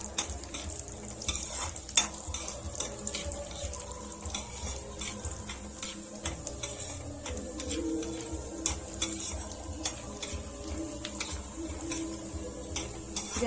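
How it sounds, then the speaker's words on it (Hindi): Almonds, pistachios and cashews sizzle lightly in pure ghee in a pan, a soft continuous crackle broken by frequent sharp clicks of a spoon stirring against the metal, close and fairly quiet. "ये बादाम, पिस्ता और काजू को डालकर हल्का सा भून लेंगे।"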